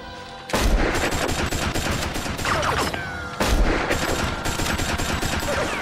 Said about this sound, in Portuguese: Parem de atirar!